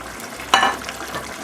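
Shrimp go into a simmering enchilado de mariscos seafood sauce already holding fish, giving one sharp close splash-sizzle followed by softer bubbling and stirring, with no voices.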